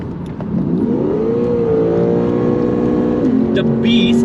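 Lexus RC F with a 5.0-litre V8 and rear-wheel drive, revving in sport plus mode; a loud, close engine note climbs and holds as a throaty growl, then shifts down in pitch near the end.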